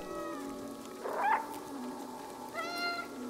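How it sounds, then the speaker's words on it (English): A cat meows several times in the Stray video game, with drawn-out cries close by over a soft, steady background hiss. "I can meow?"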